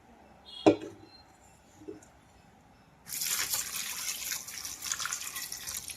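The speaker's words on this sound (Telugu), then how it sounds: "మనం దీనిలో వాటర్ పోసుకుందాం ఇప్పుడు" A single knock and a faint clink, then water pours steadily and close into a pot of drumstick dal for the last few seconds.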